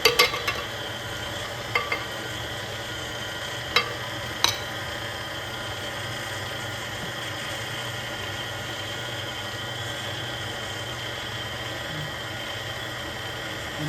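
An electric mixer beats walnut chocolate chunk cookie dough with eggs added one at a time, a steady whirring hum broken by a few sharp clicks against the bowl near the start.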